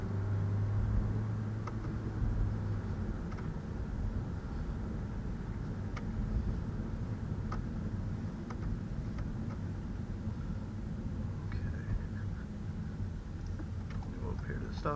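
A 2018 Ford EcoSport SE with a 2-liter engine drives along, its steady low engine drone and road rumble continuous throughout, with a voice speaking over it.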